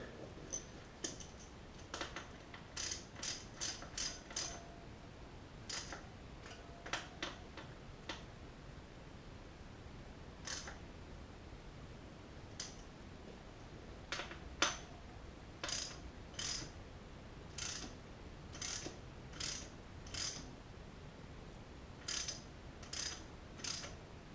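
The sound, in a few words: tightening a valve stem nut on a motocross front tire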